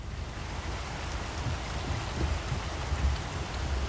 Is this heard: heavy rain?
yes